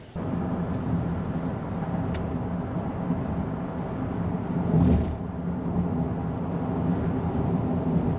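Car interior while driving on a road, a steady low rumble of engine and tyre noise with one brief louder swell midway.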